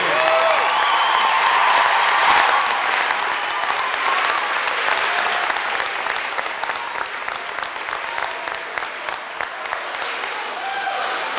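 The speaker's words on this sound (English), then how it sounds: "please give them a round of applause." A large crowd at a SLAM school event applauds school staff and teachers in a steady, dense roar of clapping that gradually fades slightly over its length.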